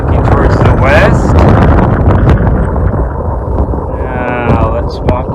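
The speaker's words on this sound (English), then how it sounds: "It's a little windy today." Steady wind buffets the microphone in a loud, rumbling roar that never lets up, with a voice talking through parts of it, outdoors in Theodore Roosevelt National Park's southern unit.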